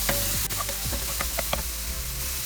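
Green chilies with ginger and garlic paste frying in a pan, a soft steady sizzle with a few sharp clinks and scraping stirs from a utensil, close and fairly quiet.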